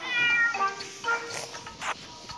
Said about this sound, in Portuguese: Para de miar! Para de miar!